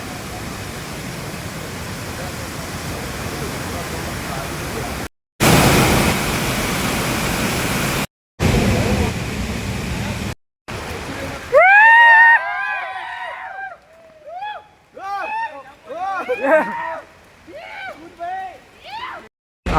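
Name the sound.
waterfall roaring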